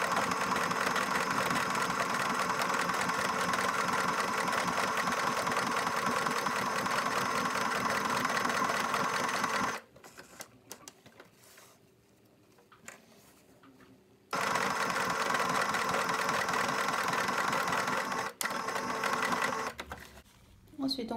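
Sewing machine stitching an evening clutch bag, a fast steady whirring hum that stops for a few seconds, then resumes, with someone speaking over it.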